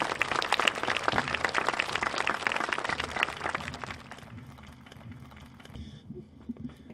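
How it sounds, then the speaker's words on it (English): Audience applause for fifth graders at an Arbor Day school program: dense clapping for about four seconds, then dying down into a few scattered claps. "We can give one more round of applause for our fifth graders."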